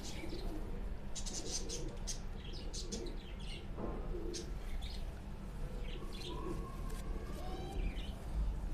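Sialkoti pigeons coo and chirp close by in a loft, soft repeated calls over a steady background hum with occasional flutter.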